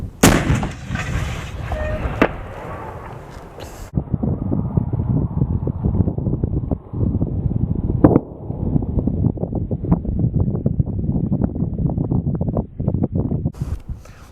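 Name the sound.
Whitworth cannon firing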